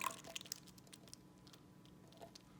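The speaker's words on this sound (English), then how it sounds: "When you pour out the evaporated milk, you're gonna have 3 cups." Evaporated milk poured into a bowl for no-bake banana pudding, quiet wet squishing and patter with scattered small splashes, faint and close, lasting a couple of seconds.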